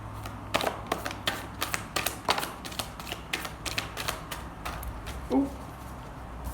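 Tarot cards being shuffled, a close run of quick papery riffles and taps in an irregular rhythm, fairly quiet, with a brief soft voice sound near the end.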